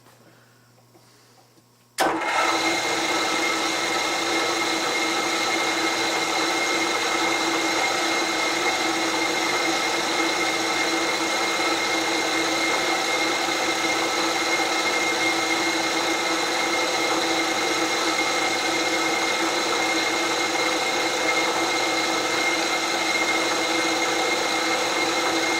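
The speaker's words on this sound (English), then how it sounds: "Now let's see if we can drill some holes." A steady, loud machine whine with strong tonal hum starts abruptly after a brief quiet moment and runs continuously, a drill cutting holes into metal.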